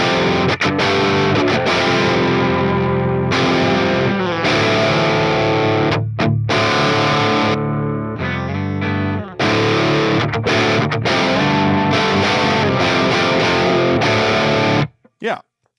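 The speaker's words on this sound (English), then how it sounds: "The tube screamer part, it's clear, it's punchy, it's got the mids you expect." An electric guitar runs through a Tube Screamer-style TS808 overdrive in a DIY combo pedal, playing loud, driven chords and riffs with a punchy mid-heavy tone and brief gaps between phrases, then cutting off abruptly at the end.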